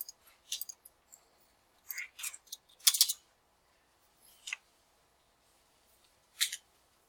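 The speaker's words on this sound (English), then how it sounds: "So I'm typing" Sparse, quiet clicks of typing on a keyboard, coming in small irregular bursts of a few keystrokes separated by pauses, close and soft in a quiet room with no talking.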